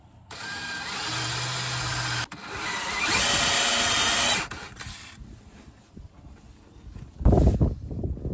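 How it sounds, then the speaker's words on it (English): A power drill runs in two sustained whirring bursts with a short pause between, then falls quiet before a loud clunk near the end. "So we're going to drill roughly about here."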